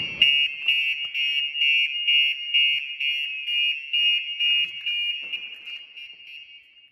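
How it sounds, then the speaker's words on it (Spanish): Car alarm on a Dodge Challenger set off by opening the hood: a loud, steady electronic siren tone pulsing rhythmically, close and without talk. "en algunos coches si nos abren el capó, nos avisa y nos salta la alarma"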